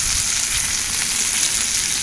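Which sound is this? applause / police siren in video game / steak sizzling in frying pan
steak sizzling in frying pan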